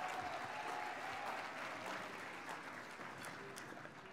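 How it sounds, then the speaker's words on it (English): Steady applause from an audience at the LULAC National Convention dinner, a dense, even wash of clapping that holds for the whole stretch without breaks, sounding somewhat distant and soft. "Can we please give him another round of applause?"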